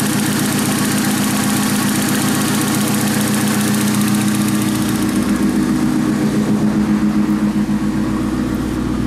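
Volkswagen Parati 1.0 16v turbo engine idles steadily with a rough, throbbing mid-range drone and close, constant loudness that wavers slightly toward the end.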